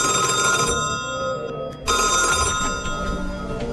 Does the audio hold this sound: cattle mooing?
no